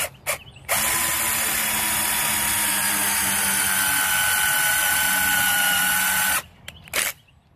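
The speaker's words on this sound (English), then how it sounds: "I'm just going to show you how to drill out a countersink hole with your countersink bit." Power drill fitted with a countersink bit boring into a wooden 2x2, a loud steady whine held for about six seconds, framed by short trigger blips before and after.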